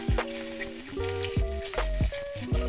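Fenugreek seeds and a dried chilli tempering in hot oil for a rohu fish curry, a loud close crackling sizzle with sharp pops and spitting bursts throughout.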